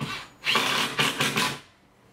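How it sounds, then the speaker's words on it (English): A power drill runs into wood during assembly of a bed frame, three close, loud bursts of whirring within about two seconds, then trailing off, with no talk over it. "Alright, now Zach's gonna get to drilling."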